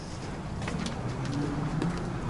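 A bird calls with a few soft, low cooing notes near a flicker nest cavity outdoors, fairly faint against a steady background wash with no talking.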